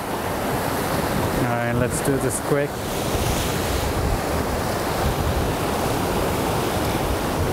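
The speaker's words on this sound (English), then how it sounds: "being so close to the water. We're gonna get some splashes" Ocean waves splash continuously near the rocky shore at Batroun, Lebanon, a loud rushing wash with wind buffeting the microphone, while someone speaks briefly near the start.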